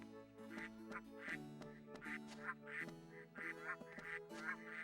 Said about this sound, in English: They probably just hear all the noise outside and are like, oh God, what's happening?